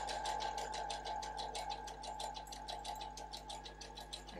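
An embroidery machine fitted with a cording foot sews a zigzag stitch, a steady, fast rhythmic needle chatter with a motor hum underneath, close and continuous with no talk.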